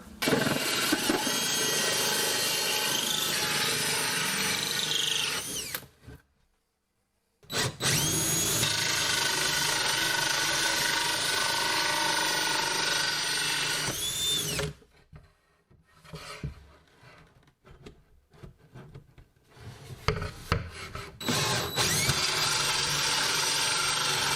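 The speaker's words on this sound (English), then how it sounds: "I'm moving on to my sink base, which involves drilling holes for the water." A power drill whines and grinds through a wooden sink base cabinet in long loud bursts, drilling water-line holes and stopping briefly between them, with some quieter rubbing and handling noises near the end.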